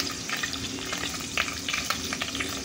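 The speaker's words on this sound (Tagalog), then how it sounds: "bago ako magigisa na ng bawang, luya at saka kamatis" Garlic, ginger and tomato sauté in a hot pan, a steady close sizzle with scattered stirring clatters and scrapes, no talking.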